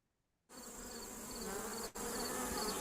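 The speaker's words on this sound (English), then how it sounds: "The honeybee colony, the perfect society." A honeybee colony hums in a steady, dense buzz that starts abruptly and holds at an even level, close and continuous with a brief dip partway through.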